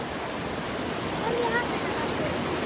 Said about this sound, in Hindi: इसके नीचे पत्थर है ना, तो ये पानी अभी एक जगह रुका हुआ है। थोड़ा थोड़ा पानी वो हो रहा है।